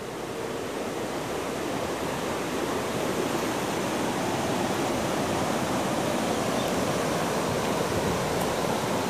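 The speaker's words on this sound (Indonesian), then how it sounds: "Ini sungai banjir dan mengarah ke Bengawan" Loud, steady rush of floodwater on a swollen river at the Semanding dam in Bojonegoro, a dense broadband roar holding constant and close for the whole stretch with no voices.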